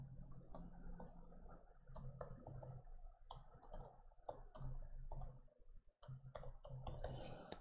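A computer mouse gives sharp, quick clicks in irregular bursts, close and quiet, over a soft steady hum.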